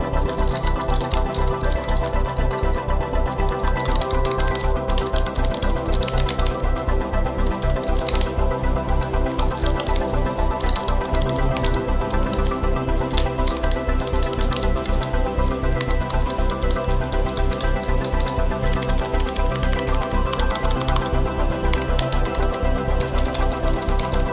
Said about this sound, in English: that's the sound that it's been making for the blue switches on this low profile keyboard